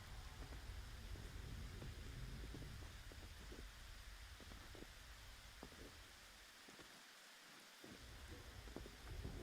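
Steady, dense rain pours down in a video game, a continuous broadband hiss with scattered heavier drops, alone and fairly loud throughout with a brief dip in the low rumble near the end.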